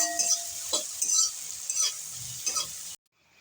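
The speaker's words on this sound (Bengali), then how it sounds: "রসুনটা একটু ভাজা হয়ে গেছে" Crushed garlic sizzles in hot oil in a pan with fried red chilies, crackling steadily while being stirred with scraping strokes, then cutting off abruptly.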